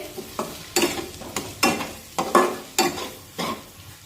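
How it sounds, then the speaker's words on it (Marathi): Cooked spice masala for a Maharashtrian drumstick rassa bhaji is stirred in a pan, with about eight distinct scraping strokes in an uneven rhythm over a soft oily sizzle, close and clear, no talking. "त्याला पुन्हा एकदा मी हलवून घेते"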